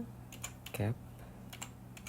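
A folder name is typed on a computer keyboard in a few scattered, crisp keystrokes close by, with a short burst of voice partway through.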